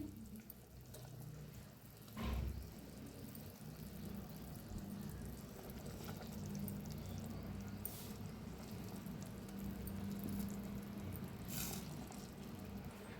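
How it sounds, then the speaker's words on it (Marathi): Potatoes cook in a pot of water at a rolling boil, a low steady bubbling and gurgling close by with a brief louder knock early on and no talk. "मस्त असं शिजायला लागलेलं आहे खळखळून शिजायला लागलेलं आहे"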